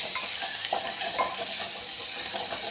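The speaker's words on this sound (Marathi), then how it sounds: "हे बघा थोडंसं तळून घेणार आहे सर्व." Green chili paste and coriander fry in a pan for patwadi, giving a steady close sizzling hiss with faint stirring scrapes throughout.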